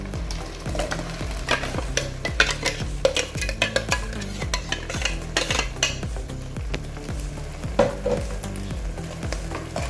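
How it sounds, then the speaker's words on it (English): Tomato puree being stirred and sautéed in a pan for mackerel fish curry, with a continuous sizzle and busy, rhythmic scraping and clinking of a utensil against the pot, close and fairly loud throughout. "Mix it well. We will saute for some time friends."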